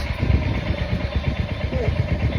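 A motorcycle engine runs steadily at a mid pitch with a throbbing, pulsing rumble, close by and continuous throughout.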